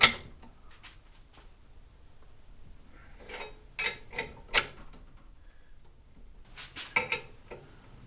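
A ball joint press clamped in a vise is cranked down while installing control arm bushings and a ball joint, giving sparse metallic clicks and clanks in small clusters separated by quiet pauses.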